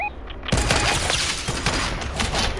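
A sudden loud burst of sniper rifle fire in a PS4 shooter game, a sharp crack followed by a dense, rattling crackle of shots and echoes that fills the rest of the short moment.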